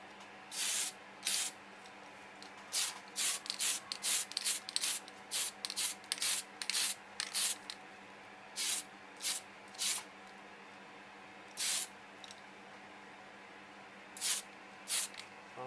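Short bursts of aerosol spray apply a dull coat to an Aoshima 1:24 Back to the Future DeLorean plastic model kit, a rapid run of quick hisses followed by a few spaced, slightly longer sprays in a quiet room.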